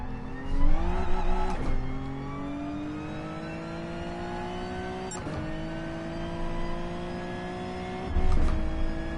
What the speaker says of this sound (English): what it should sound like inside the cockpit of a race car